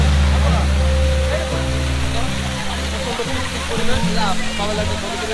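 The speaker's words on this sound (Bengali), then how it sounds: "দেখুন এই সেই ঝর্ণা দেখুন কি অজরে ঝরছে" A waterfall at Himchari gushes as a dense, continuous rush of falling water close to the listener, with someone talking over it.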